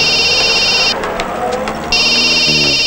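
An electronic telephone ring in a Telugu comedy scene, a bright warbling tone that sounds, pauses for about a second with faint background noise, then rings again.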